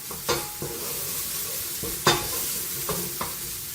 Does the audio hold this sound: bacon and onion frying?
yes